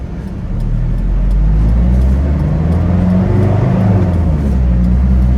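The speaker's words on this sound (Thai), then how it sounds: "เดี๋ยวผมออกตัวเกียร์หนึ่ง" A camper van fitted with a Herricane aftermarket air filter pulls away in first gear, its engine note rising from a low idle to a loud, steady drone close by.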